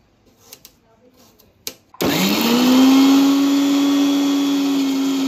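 After a few faint knocks and clicks, a kitchen mixer grinder roars to life grinding whole garam masala, ginger-garlic paste and cardamom, then holds a loud, steady high whine close by.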